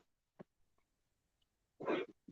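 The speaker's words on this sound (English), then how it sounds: "Coughing." A person coughs, first with a few faint, isolated hacks and then one louder, rough burst near the end, with quiet gaps between them.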